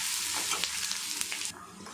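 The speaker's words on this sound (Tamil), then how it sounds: "இதை நல்லா சிகப்பாக வதக்கி எடுக்கலாம்" Steady crackling sizzle of ginger frying in hot oil, close and fairly quiet, with faint stirring scrapes.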